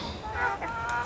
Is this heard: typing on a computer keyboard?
no